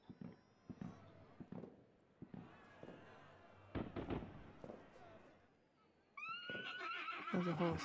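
A horse whinnies loudly near the end, after several scattered thumps and knocks in a quiet room.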